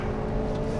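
A Hyundai i30 N engine revs hard on a race track, a dense, loud, continuous engine drone close by with no voices over it.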